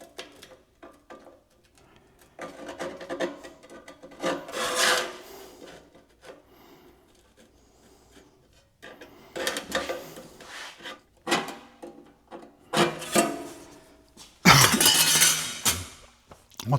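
Hand filing of a cut metal piece for a custom rat rod part, intermittent bursts of rasping strokes separated by pauses, with clinks and handling of the metal between them.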